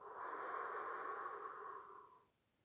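A long, steady breath blown out through the mouth during a slow breathing exercise for lower back pain relief, close and airy, lasting about two seconds before fading to quiet.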